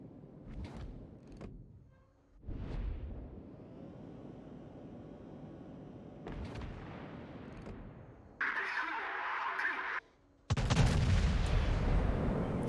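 Iwami warship guns in World of Warships fire shells, giving several heavy booming blasts with rumbling tails and a whooshing rush, followed by louder roaring bursts of gunfire near the end, mixed with a voice talking.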